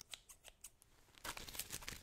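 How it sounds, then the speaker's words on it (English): Several crisp snips of scissors cutting through paper, a few spaced cuts followed by a quicker, louder burst of snipping close by. "Got my pink scissors."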